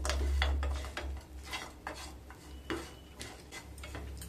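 A spoon stirs semolina halwa with fried cashews, almonds and raisins in a pan, giving a series of soft scraping clinks against the metal, steady and close, with no talking.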